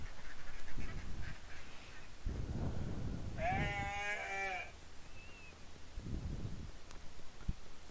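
A single wavering goat bleat rises out of muffled background noise and lasts about a second, with low thumps before and after.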